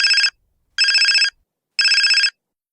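A text message alert tone sounds three times, each one a bright half-second electronic trill, evenly spaced with silent gaps between them. It is loud and clear with nothing else heard.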